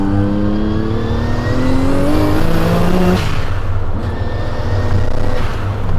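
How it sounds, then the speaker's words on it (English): A 1000HP twin-turbo Nissan 300ZX accelerates hard under boost, its engine note climbing steadily in pitch through a gear, a brief shift, then pulling again, loud and close with no talking. "let's give it a little bit of boost"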